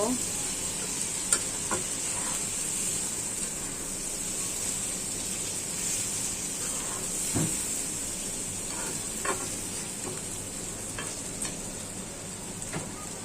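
Prawns sizzling and frying steadily in a pan of oil with occasional stirring clatter as ground spices are added, a continuous close hiss throughout.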